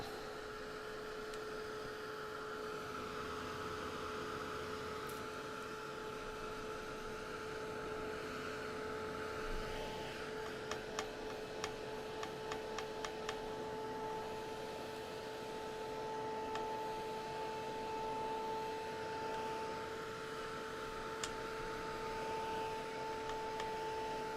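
A hair dryer blows steadily over a lavender painting to dry the paint, a constant close whir holding the same pitch for the whole stretch with a few faint clicks partway through and no talking.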